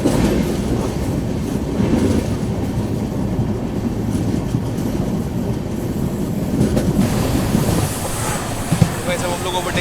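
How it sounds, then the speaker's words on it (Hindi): Heard from on board, a Trivandrum Rajdhani Express runs at 110 km/h with a constant loud rumble and rhythmic wheel clatter, while a voice talks over it. "ये करंट ऑपरेटिंग स्पीड हमारी ट्रेन की अभी 110 चल रही है भाई"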